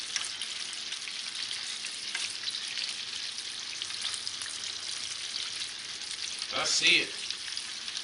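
Fried chicken crackles and sizzles steadily in hot oil, a close, dense hiss that runs the whole time, with a brief spoken remark and a clatter near the end.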